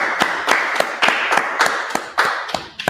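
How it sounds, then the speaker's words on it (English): Sparse audience clapping in a law class, a handful of loud, distinct claps spaced irregularly, close and sharp, with no talk. "All right, let's clap it up."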